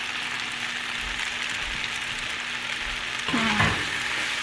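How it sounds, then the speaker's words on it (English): Pasta with cooked tomatoes and broccoli is stirred in a pan over a soft, steady sizzle, with faint scraping and a brief louder clatter near the end. "I'm just mixing my pasta with the cooked tomatoes, the broccoli."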